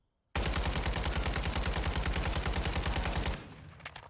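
Rapid automatic gunfire firing high velocity ammunition in Warzone 2.0, one loud continuous burst of about three seconds, then a few fading echoes and clicks.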